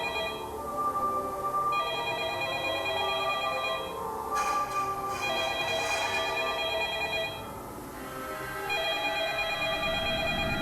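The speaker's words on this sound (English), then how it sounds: "Who's calling, but who's not picking up?" A telephone rings repeatedly in bursts of electronic trilling separated by short gaps, loud and unanswered, no voices.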